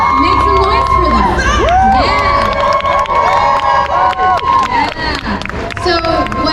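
Crowd cheering, whooping and clapping for the Gentefied cast panel at L.A. Comic Con 2021, loud and sustained with high shouts rising over the roar.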